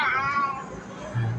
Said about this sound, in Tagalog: May alaga pa kayong pusa.